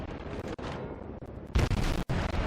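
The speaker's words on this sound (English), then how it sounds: "my broadside there just manages to miss it" A Tier 2 US cruiser, the Chester, fires a broadside of naval guns in World of Warships: a dense, rumbling wash of gunfire swells into a loud, heavy volley midway, then breaks off briefly before booming again.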